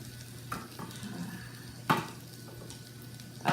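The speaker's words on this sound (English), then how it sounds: "you want to make sure that the onions and the garlic saute, but you don't burn them in any way" Onions and garlic sautéing in a pan on turned-down heat, a soft steady sizzle under occasional sharp scrapes and clinks of a utensil stirring against the pan, with no talk.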